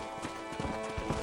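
Horse hooves clip-clop at a trot in the western video game Red Dead Redemption, a quick, faint, steady rhythm under a constant ambient hum.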